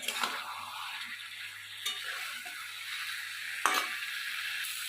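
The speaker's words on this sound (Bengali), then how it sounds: "দিয়ে ভালো করে আমি মিক্স করে নিলাম মশলার সঙ্গে।" Soybeans and potatoes fried with spices get stirred in a pan: a soft continuous sizzle with a few sharp scrapes of the spoon against the metal, close and fairly quiet.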